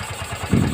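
Yamaha Byson motorcycle engine idling after a rebuild with new piston rings, giving a steady low, close putter of rapid even pulses that swells briefly louder near the end.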